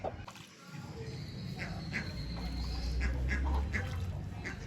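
Peahen at a zoo giving repeated throaty calls, several short bursts spaced through the clip over a steady background hum and ambient noise.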